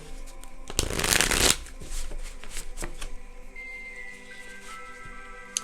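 A tarot deck is riffled and shuffled up close, with a dense burst of card flutter followed by lighter taps and shuffles as the cards are squared, and a faint voice beneath.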